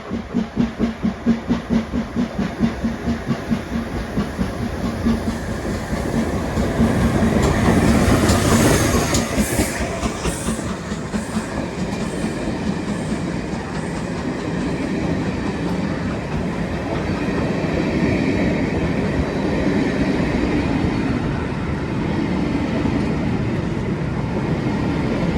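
A steam locomotive running in reverse on the line to Dorridge passes close by, a long loud rumble with rhythmic clickety-clack of wheels over rail joints that swells midway and continues steadily.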